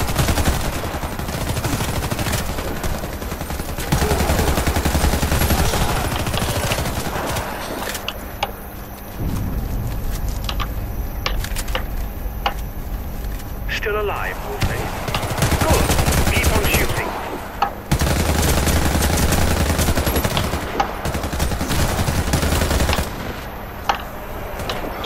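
Sustained automatic gunfire from the video game Warface, loud and dense bursts of shots with brief pauses and a few sharp single cracks, filling the whole stretch with no talk over it.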